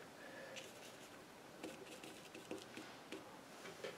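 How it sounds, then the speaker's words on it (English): Light summer rain in the UK patters faintly and steadily outdoors, with soft scattered drips and ticks over a hiss. Nobody speaks. "it's raining again"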